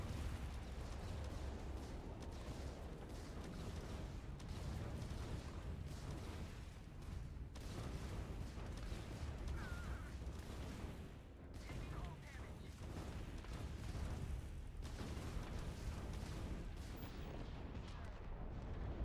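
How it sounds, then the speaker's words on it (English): Spaceship auto cannons fire during a space battle in the video game Starfield, a dense, continuous barrage of booming shots and blasts blended with the ship's rumble, steady and loud throughout. "But we have auto cannons as well."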